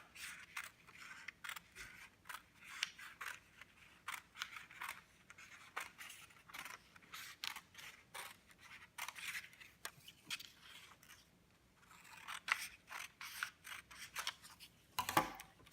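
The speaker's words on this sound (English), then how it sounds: "you're gonna go in about 1 inch of the longest side of the paper and cut all the way down" Scissors cut along a strip of paper: crisp, rapid snipping comes in dense bursts throughout, close and fairly quiet, with a short pause before a final flurry.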